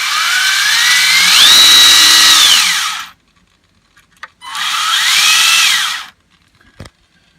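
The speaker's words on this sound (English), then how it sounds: "Now the motor. It's alive." An electric motor on a remote-controlled model vehicle whines up in pitch, holds, then winds down, repeated in two bursts of about three seconds each, loud and close with small clicks between.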